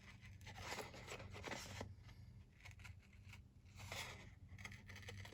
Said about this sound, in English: Let's see what these big scissors do for me.